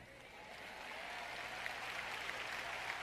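Congregation applause during a French-language sermon, a continuous wash of many hands clapping that swells slightly and holds steady, fairly faint and without speech.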